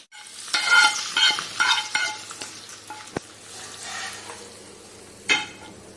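Tempering spices for gongura chutney crackle and sizzle in hot oil while a spoon stirs and scrapes the pan, with a sharp clink near the end.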